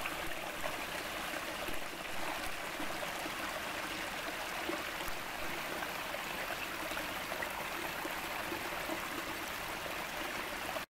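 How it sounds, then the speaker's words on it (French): A small woodland stream flows steadily, its broadband watery rush and trickle continuous and close for the whole stretch, with no voices over it. "je progresse en parallèle de ce petit ruisseau des bois."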